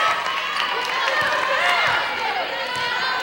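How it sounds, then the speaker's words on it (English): A high school volleyball crowd cheering in a gym during a close Westminster at Berwick match, a loud continuous roar of voices and shouts with squeaks and thumps from play, under an announcer's talk. "Crowd starting to get into it"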